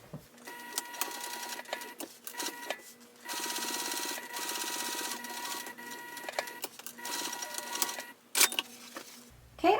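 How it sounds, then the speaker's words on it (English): Sewing machine running at a 3.5 stitch length, top stitching around the curved opening of a chartreuse crossbody bag, its steady mechanical whir running in bursts with brief pauses between runs. "I'm just going to follow that same curve and top stitch around this opening"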